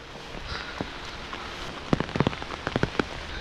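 Rain falls along a path through a plantation on a hill, a steady soft patter with sharper close drops striking surfaces and no talking.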